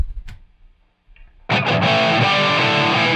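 A few quiet clicks and small noises, then a loud, sustained distorted chord rings out from a Gibson Explorer electric guitar on its neck pickup, thick and saturated.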